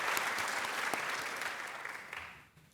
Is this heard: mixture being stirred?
no